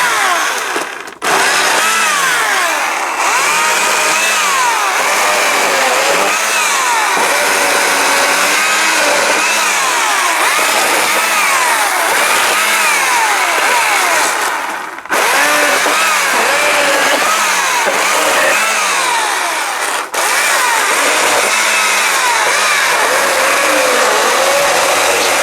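A Husqvarna 240i electric chainsaw runs loud and close for the whole stretch, its motor revving up and down in repeated surges as it cuts, with one brief drop near the middle and no talk.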